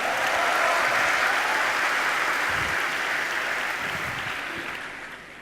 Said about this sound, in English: Let's clap it up for Alexander.